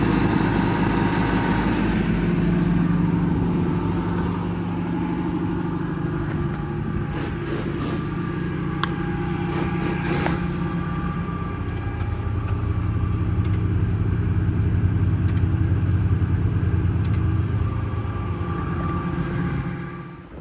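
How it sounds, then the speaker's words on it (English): Steady engine drone with a low mechanical hum from an air compressor on a 2023 Ram 5500 four-wheel-drive service truck with an IMT Dominator bed, running continuously and fairly loud at close range, with faint clicks and no voices. "That commands the compressor on."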